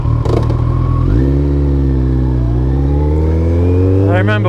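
A Kawasaki ZZR1400 / ZX-14R sport motorcycle engine runs loud and close, holding a steady idle, then rising in pitch as it revs up and settles, with a brief higher rev burst near the end.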